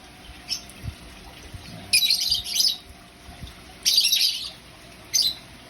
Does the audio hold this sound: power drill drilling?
no